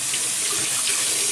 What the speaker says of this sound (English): we're going to put some warm water on this